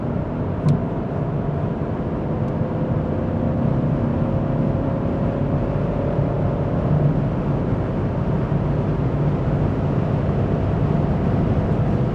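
Steady road and engine drone inside a Mercedes-Benz C220d with a 2.0 turbo diesel and 9G-Tronic gearbox as it accelerates on an open road. The rumble is continuous and close, with no speech.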